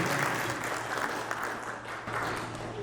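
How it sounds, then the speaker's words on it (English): Audience at a Canadian Hindu Chamber of Commerce business event giving a round of applause, a dense, even wash of clapping filling the whole few seconds with a low hum underneath. "Let's get a big round of applause, actually."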